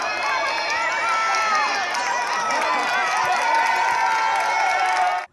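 Home crowd cheering at a volleyball tournament in Roraima, a steady dense roar of many voices with high shouts and whoops running unbroken for about five seconds, then cutting off.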